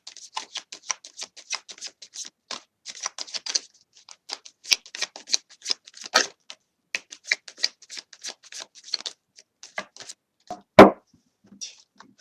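Tarot cards are shuffled by hand in close, crisp bursts of rapid flicking and riffling, broken by short pauses and a louder slap near the end, with no talking.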